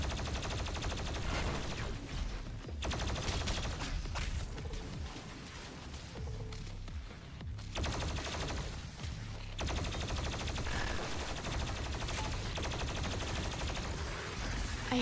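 Gunfire in the video game Doom comes as dense, continuous bursts of shots and blasts layered over game sounds, loud and sustained for most of the stretch with a brief dip partway.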